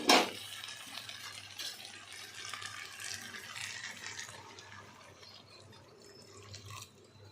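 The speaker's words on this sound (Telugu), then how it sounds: "ఇప్పుడు వాటర్ యాడ్ చేసుకుందాం." Water trickles and splashes into a cooking pot of moong dal and cabbage curry, starting with a brief louder splash and then a steady, soft pouring sound that tapers off.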